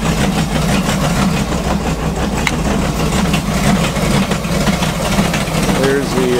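Boat engine idling steadily with a low, even rumble throughout, close by, with someone talking over it.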